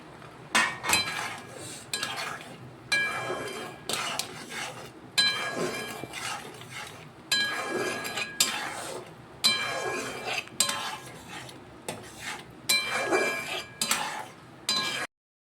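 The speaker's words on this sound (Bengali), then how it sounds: "যে বড়াগুলো ভেজে রেখেছিলাম, এই বড়াগুলো আমি এর মধ্যে দিয়ে দেবো" Fried lentil dumplings (bora) go into a pan of mung-and-poppy-seed curry, bringing close metallic clinks and scrapes of a spoon against the pan in repeated short bursts separated by brief pauses.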